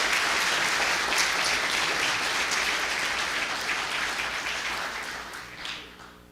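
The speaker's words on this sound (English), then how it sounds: "give a round of applause for these kids" Audience at a Griffin Spalding school board meeting applauding students, dense steady clapping from many hands filling the room, loud and sustained before tapering off at the end.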